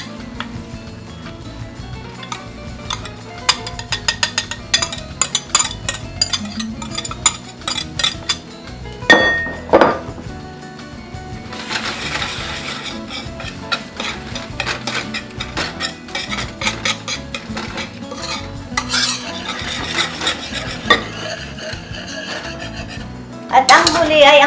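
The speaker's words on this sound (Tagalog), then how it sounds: "Patuloy na paghalo ang gawin upang hindi mamuo ang itlog." A spoon scrapes and clinks against a cooking pot as thick ube halaya mixture with eggs and sugar is stirred, producing rapid, repeated metallic taps and rasps with a few louder knocks.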